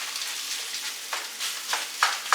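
Food browning in a pan as a chef cooks bean soup, a steady close sizzle with soft crackling that swells in a few louder bursts as it is stirred.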